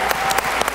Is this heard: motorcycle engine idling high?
no